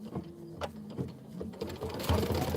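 A home embroidery machine runs a placement line for a penguin appliqué in a winter quilt block, giving a steady mechanical stitching whir with rhythmic needle clicks, close and moderately loud, with no talk.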